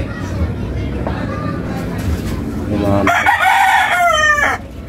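A Sweater gamefowl rooster crows once, loud and close, with a full drawn-out call near the end, while someone talks nearby before and under it.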